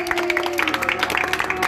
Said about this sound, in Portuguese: Pode bater palmas aí, pessoal.